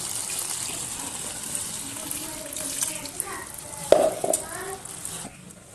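Water poured from a vessel into a pan of fenugreek leaf curry, a brief splashing gush near the four-second mark over steady kitchen hiss, with a voice talking faintly in the background.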